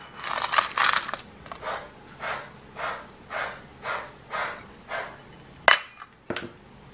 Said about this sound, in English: we're gonna beat 1/4 cup of our sweetener with our egg yolks